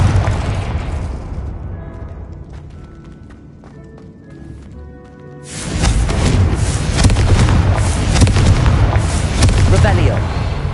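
Confringo fire spell exploding in Hogwarts Legacy, a quieter stretch of chimes giving way midway to a loud, sustained rumbling blast and crackling combat noise that carries on to the end.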